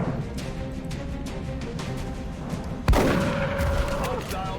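Gunfire from a soldier shooting at an alien floater in the video game XCOM, rapid sharp shots over a busy game soundscape, then a loud blast and heavier bursts near the end.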